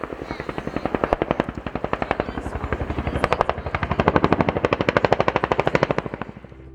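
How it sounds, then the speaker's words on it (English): Chinook helicopter from a distorted online recording, a loud, bright, rapid train of rotor-blade thumps that stays steady, swells slightly, then eases off at the very end. "Let's listen to a Chinook video from YouTube."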